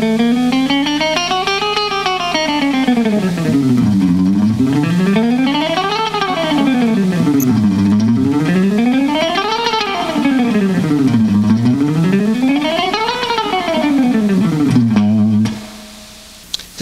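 Electric guitar speed exercise, rapid picked runs sweeping up and down in repeated wave-like arcs, loud and distorted, ending abruptly after about fifteen seconds.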